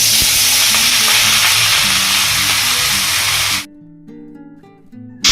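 Bay leaf, chili, cinnamon and cardamom tempering sizzle loudly in hot oil with a bright, continuous hiss and some stirring, then the frying cuts off abruptly to near quiet for the last couple of seconds.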